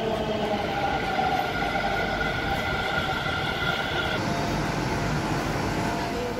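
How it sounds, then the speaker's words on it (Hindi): A metro train rumbles in close by, a loud continuous roar with rising whine and wheel hum, steady throughout without speech. "मेरा आते ही मेट्रो भी आ गई।"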